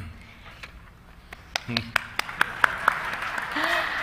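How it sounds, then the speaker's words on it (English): Scattered claps from an audience at a humanitarian awards ceremony, a few sharp isolated claps first that thicken into fuller applause, with speech heard alongside. "This applause is for all of the members of the selection committee."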